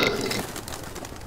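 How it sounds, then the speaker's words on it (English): A soft burp-like cooing pigeon sound effect from the video game Jazzpunk, heard alone and close over a low game ambience. "I just burped a pigeon."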